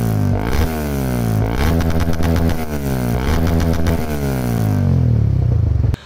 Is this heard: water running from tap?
no